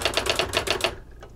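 A Brother AX-22 electronic typewriter backspaces with a rapid run of about seven evenly spaced mechanical clacks, close and loud, then stops, leaving a faint single tap and quiet afterward.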